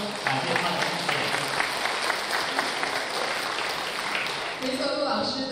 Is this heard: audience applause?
yes